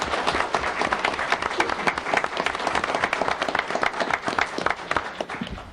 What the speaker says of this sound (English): let's give all of them one more round of applause